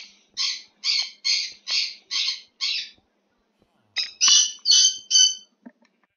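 A bird in the Minecraft video game squawks in a steady run of six harsh, evenly spaced calls, pauses, then gives three or four more, loud and close with nothing else behind it.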